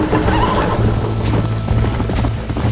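Horse hooves clip-clopping in a fast, steady rhythm in the Western video game Red Dead Redemption, close and loud, with a horse whinnying over the hoofbeats.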